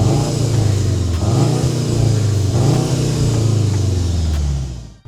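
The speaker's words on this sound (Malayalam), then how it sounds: "സ്പോട്ട് ആക്കുമ്പോൾ നമുക്കൊരു ഡിഫറൻസ് ഉള്ള സ്പോട്ട് എക്സോസ്റ്റ് ഫീൽ ചെയ്യാൻ പറ്റും." Skoda Kodiaq RS with sport exhaust in sport mode, engine revving loud and close in steady rising and falling swells for about five seconds, alone with no talk, cutting off at the end.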